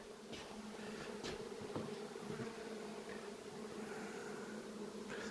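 Honeybees in a wintering colony in a Michigan hive give off a steady, faint, low hum, with occasional single bees buzzing close by.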